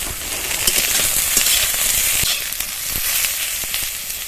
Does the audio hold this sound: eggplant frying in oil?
yes